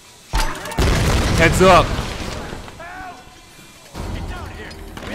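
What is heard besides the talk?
explosion in video game Tomb Raider Definitive Edition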